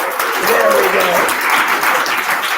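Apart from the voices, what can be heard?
audience applause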